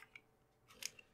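Razor blade slicing open the packaging of an M.2 SSD, a few short, crisp cutting snicks at close range, quiet and isolated, ending in a sharp final snap.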